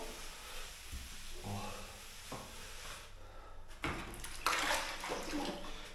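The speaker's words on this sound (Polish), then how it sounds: "I za każdym razem wyciskam sobie tą wodę ręcznie" Ceramic tiles being washed down during grouting of a boiler room, with water wrung out of a sponge by hand: close splashing and trickling water, quieter at first, then a louder burst of wringing and dripping toward the end.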